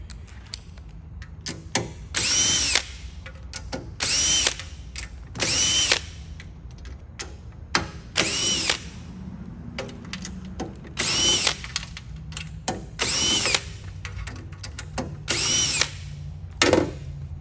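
A power tool runs in repeated short bursts while removing 8mm bolts from a Toyota Prius. Roughly eight loud whirring spurts come close to the listener, separated by quiet gaps with small clanks.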